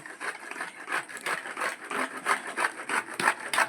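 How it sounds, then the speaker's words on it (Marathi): Coconut being grated by hand to mix into a spiced urad dal vadi dough: a close, steady rasping scrape repeating in quick rhythmic strokes. "त्यासाठी खोबरं पण किसून घ्यायचं."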